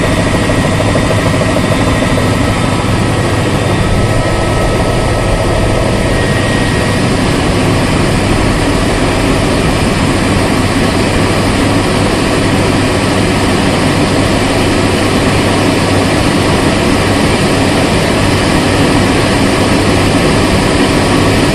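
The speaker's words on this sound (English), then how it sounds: "Oh, helicopter flying right by it." A helicopter's steady loud engine and rotor roar fills the air as it flies past Devon Tower, constant and dense throughout with no clear rise or fall.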